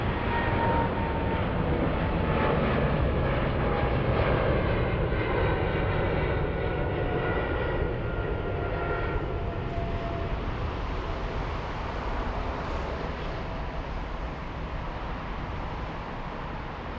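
An Aerologic Boeing 777 freighter roars at Frankfurt airport, a loud continuous jet engine rumble that slowly fades over time, with no voices.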